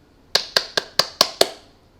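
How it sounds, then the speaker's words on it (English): Six sharp, evenly spaced hand claps in quick succession, close and crisp, with no one speaking. "let's get some more applause for our special drop-in guest"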